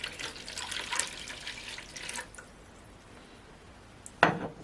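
About 300 grams of water is poured into a mixing bowl of bread dough ingredients with yeast, salt and an egg. It makes a soft, steady trickle for a couple of seconds, then quiets, followed by a brief knock.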